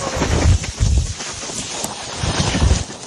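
Violent storm winds over Paris with gusts reaching 112 km/h, heard as loud buffeting roars that strike the microphone in repeated bursts, with low rumbles rising and falling.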